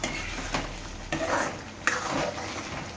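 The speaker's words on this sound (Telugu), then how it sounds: "మంచిగా ఫ్రై అవుతుంది" Spicy mutton keema fries in oil, a soft continuous hiss punctuated by a few sharp spatula knocks and scrapes on the pan.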